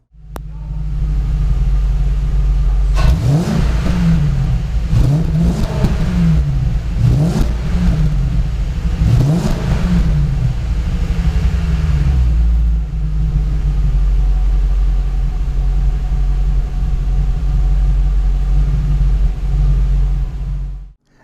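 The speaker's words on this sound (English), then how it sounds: "That car sounded great." A Lincoln LS V8, freshly repaired for a timing chain knock and fitted with a throaty exhaust, rumbles close by. It gets several quick throttle blips early on, then settles into a steady, even idle.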